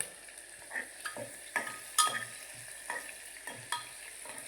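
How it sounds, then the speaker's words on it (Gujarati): Onions for a potato and onion curry frying in a pan over low heat, a quiet sizzle broken by regular scraping strokes of stirring, close and fairly soft. "થોડીક વાર ડુંગળીને પાકવા દો હલાવો"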